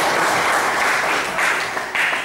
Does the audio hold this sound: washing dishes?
no